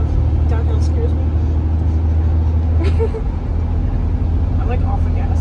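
A manual car runs in fourth gear on a busy road, its low, steady engine drone and road rumble constant from inside the cabin while people talk.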